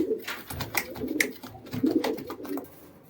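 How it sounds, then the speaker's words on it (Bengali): Giribaz pigeons, including a chotial female, cooing in soft repeated throaty bursts close by, with a pause between phrases and little else around. "এটা কিন্তু একটা চটিয়াল মাদি পায়রা, শাকদমা।"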